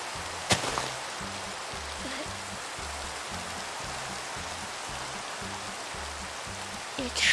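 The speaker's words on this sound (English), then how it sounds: "It's raining." Steady rain falls in a Minecraft world, a constant soft hiss of drops filling the whole stretch with no voices on top.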